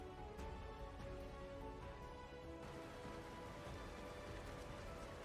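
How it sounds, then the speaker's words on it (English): Steady, dense rain in the video game Snowbreak, a continuous hiss of drops on surfaces with no pauses, moderately loud and heard alone. "Alright, it's raining."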